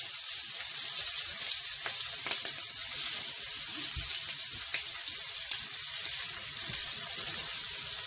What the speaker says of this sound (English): Shrimp is starting to cook really well